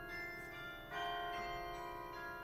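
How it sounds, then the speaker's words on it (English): Bells ring out in the Lord of the Rings Online game world, sustained resonant tolls with one fresh strike partway through, heard alone at moderate distance without speech. "Away from the ringing bells."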